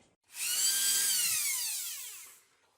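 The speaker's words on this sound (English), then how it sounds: "take a Dremel, kind of cut off the sides a little bit on this, and then they'll fit" Dremel rotary tool cutting the sides of a guitar pickup gives one close, high-pitched whine lasting about two seconds, spinning up and then slowing slightly as the cut goes on, alone with no voices.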